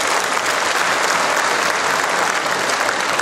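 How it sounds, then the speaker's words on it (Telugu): Crowd applause at an Ayyappa Maha Padi Puja gathering of devotees in Kolluru, a dense, steady wash of many hands clapping loudly and continuously throughout, with no break. "ఒకసారి గట్టిగా చప్పట్లు కొట్టండి"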